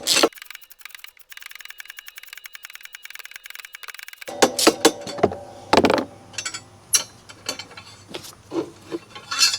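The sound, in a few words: socket wrench loosening a long bolt on a Ryobi mower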